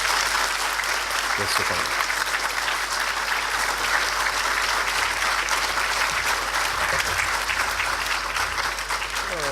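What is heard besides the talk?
conference audience applause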